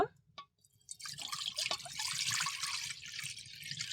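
Water pours steadily into a pot set to boil for Poush Parbon puli pitha made with rice flour; a few faint drips come first, then a continuous close splashing stream fills the rest.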